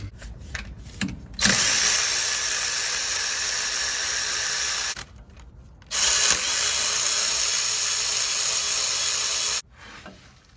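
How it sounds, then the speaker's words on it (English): Power tool, probably an impact or electric ratchet, spinning out the 12 mm alternator bolts on a 2004–2015 Nissan Titan, in two loud sustained whirring bursts of several seconds each, nearby with short pauses between. "let's go ahead and remove the 2 12 millimeter bolts that hold the alternator to the motor."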